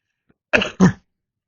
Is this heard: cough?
yes